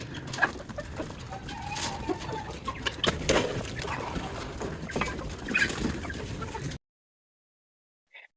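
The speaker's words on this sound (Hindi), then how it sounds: "मैं खोलता हूं आपके सामने मुर्गियों को" Several chickens cluck and murmur close by while eating feed, a busy, irregular chorus with scattered pecking and rustling before the sound abruptly stops.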